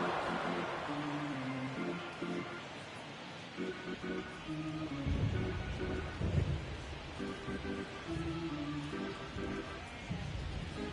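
Thunderstorm weather at a baseball game in MLB The Show 23 rumbles low under a steady wash of rain, with a deeper thunder swell midway, heard beneath game music and background sound.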